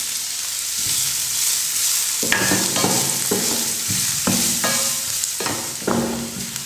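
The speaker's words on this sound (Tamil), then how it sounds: "வெங்காயம் ஒரு 2 நிமிஷமாக நம்ம ஃப்ரை பண்ணிட்டோம்." Chopped onions fry with garlic, ginger and green chilli in a pan for macaroni pasta, a steady close sizzle broken by repeated scraping stirs every second or so, no voices.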